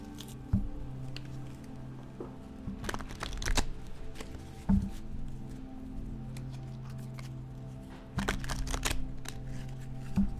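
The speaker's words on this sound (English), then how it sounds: "Let me throw just one more card for you." Tarot cards riffle and shuffle in several bursts of quick papery flicks and slaps, close up, separated by quieter pauses with soft handling noise.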